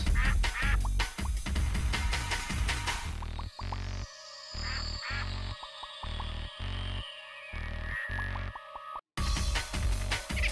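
Loud, rapid duck quacking in the video game Psybadek, many overlapping honks in a dense burst, with choppy game sound and a brief dropout near the end.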